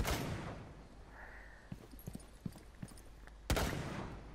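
Gunfire in Rainbow 6 Siege during a solo Terrorist Hunt: a few scattered, moderately loud shots in the middle, then a heavier blast near the end, set against a steady game background hiss.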